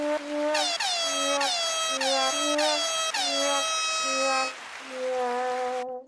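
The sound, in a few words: air horn sound effect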